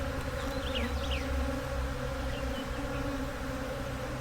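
Honeybees buzz in a steady, dense drone throughout an open beehive inspection, close and continuous with no pauses, while faint higher whines from individual bees flying near the hive drift over it.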